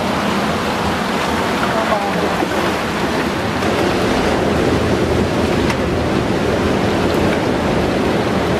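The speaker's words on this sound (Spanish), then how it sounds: "Estamos cocinando pescado frito." Fish fries in a pan over a wood fire outdoors, a steady loud broadband sizzle and crackle running unbroken throughout.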